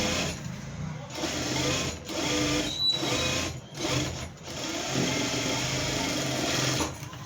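A sewing machine stitches fabric piping onto a blouse in several fast mechanical runs, each lasting a second or two, broken by brief pauses, close and steady, with no talking.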